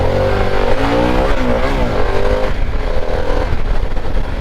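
A 2024 Harley-Davidson Pan America motorcycle revs hard and accelerates into a wheelie, its engine loud and close, pitch climbing and wavering before easing into a steady drone.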